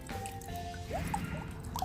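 Wet, sticky slime squelching and stretching in small drips and squishes, close by over a steady background hum, with no talk.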